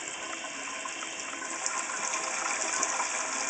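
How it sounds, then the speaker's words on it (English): Hot water runs steadily from a tap to soak asbestos and soften its glue, a continuous close hiss of flowing water, even and unbroken for the whole stretch. "I'm going to let the hot water run for a few minutes and soften the glue"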